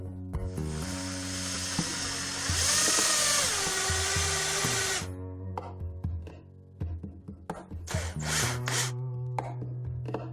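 A powered screwdriver drives screws through a furniture tipping-restraint bracket into the seam below a baseboard. A rising motor whine lasts about five seconds, then short bursts, knocks and rattles follow.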